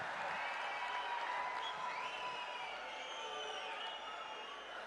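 Sustained applause from a large crowd at a public meeting in Jammu welcoming Prime Minister Narendra Modi, a dense steady clapping that fades slightly toward the end.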